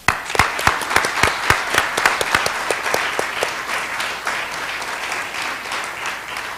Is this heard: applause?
yes